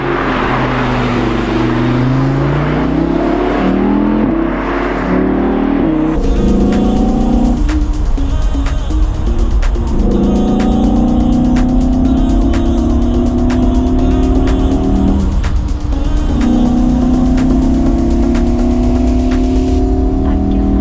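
An Audi R8 in sport mode revs hard through repeated gear pulls, its loud engine climbing in pitch again and again with short dips between shifts, running continuously for about twenty seconds.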